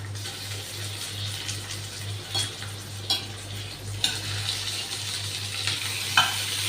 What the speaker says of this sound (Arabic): يلا بقى نحمر اللحمه